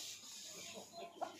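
Fighter-breed chickens in a farm shed give soft, faint clucks with one brief sharper cluck near the end over a steady background hiss.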